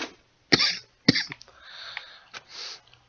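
Two sharp, dry coughs from a person with a dry throat, close and loud, followed by softer throat noises and another short cough, with no talking.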